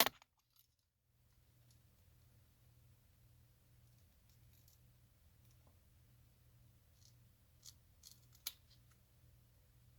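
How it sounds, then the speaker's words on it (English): Several quiet, crisp snips of fine scissors trimming thin plastic film on a Casio watch, spaced irregularly against a near-silent background. "the fine scissors just make it really easy to follow the Sharpie marks"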